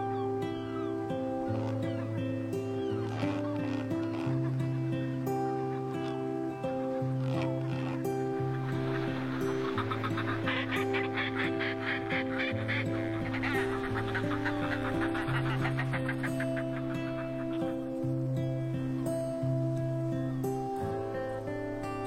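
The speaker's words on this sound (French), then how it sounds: "Lunga est un paradis pour les oiseaux de mer." A seabird colony calls on the cliffs of Lunga island, Scotland, during the breeding season, with honking, cackling cries that run throughout, mixed with steady tonal sound.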